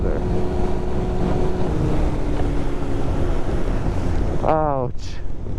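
A 1996 Yamaha YZF600 motorcycle rides through a snowstorm, its engine droning under heavy, loud wind rush before a rising rev near the end as the bike accelerates.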